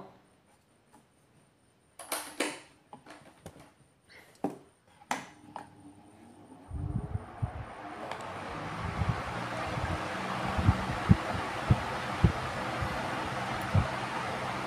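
A small electric table fan with a capacitor is switched on after a few scattered clicks and handling sounds, then settles into a steady, fairly quiet whirring hum with a few faint knocks.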